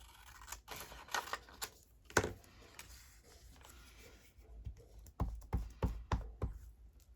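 Scissors snip through paper and cardstock for handmade journal cards, giving quiet, sharp cuts in scattered bursts with a quick run of snips near the end, up close in a calm room.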